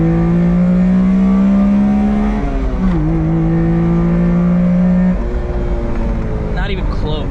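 A Honda Beat's small engine revs loudly and close by, its strong steady tone climbing, dipping briefly near the three-second mark, then holding high again before easing off toward the end.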